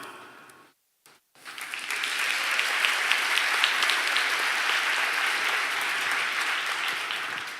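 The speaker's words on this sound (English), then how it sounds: "Applause for design." Audience applause at a talk on design and politics: a brief lull, then a loud, steady wash of clapping from a crowd that sustains evenly to the end.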